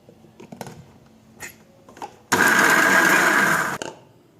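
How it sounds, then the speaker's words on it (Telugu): A few light knocks and clatters, then a mixer grinder coarsely grinding curry leaves whirs loudly for about a second and a half before stopping. "ఇప్పుడు కరివేపాకు కూడా బరకగా మిక్సీ పట్టేసుకోవాలి"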